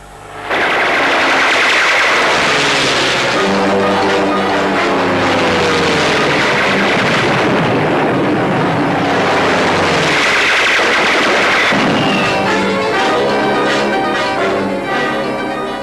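Anti-aircraft guns fire in a French comedy war film, a loud, dense, continuous barrage of rapid bursts layered with droning engine tones, filling the whole scene without voices.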